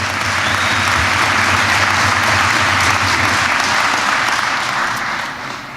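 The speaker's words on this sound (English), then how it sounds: "let's give him a round of applause" A political rally audience in western New York bursts into a round of applause for a congressman, loud, dense and sustained clapping filling the room before tapering slightly at the end.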